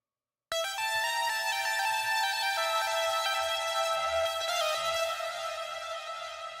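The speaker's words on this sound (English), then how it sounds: "I layered it with 2 synth patches from the library lead category" Two synth lead patches from the Dune 3 Sands of Arrakis library played together, a bright sustained tone with many harmonics that starts suddenly after a brief silence and holds steady while slowly fading.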